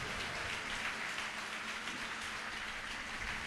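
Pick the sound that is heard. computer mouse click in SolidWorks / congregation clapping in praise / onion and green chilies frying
congregation clapping in praise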